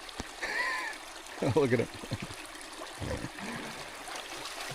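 River water trickles and flows steadily in the background in a Nova Scotia outdoor setting, with splashing bursts and someone speaking over it.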